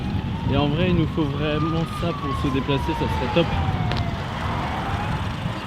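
A police siren from the video game GTA wails, gliding up and down in long sweeps behind close, overlapping conversation, steady and moderately loud through the whole stretch.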